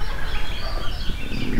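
Serama chickens kept in a backyard coop cluck in a steady, close, busy chatter, with bird calls layered over low background noise.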